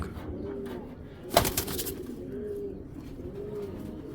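Kobra breed pigeons keep up a soft, rolling coo nearby, with a brief sharp rustle like flapping wings cutting in midway before the steady cooing resumes.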